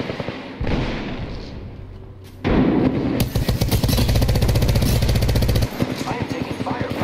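An Arc Star grenade thrown in the video game Apex Legends gives a sharp burst, then a loud, dense crackling buzz with rapid pulses that runs for about three seconds and mixes with other combat noise before easing off.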